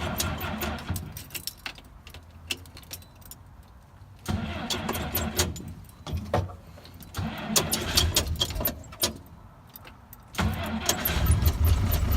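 A car engine cold-starts in below-freezing snow, cranking in repeated bursts before catching and settling into a low idle, with keys jangling and faint handling noises nearby.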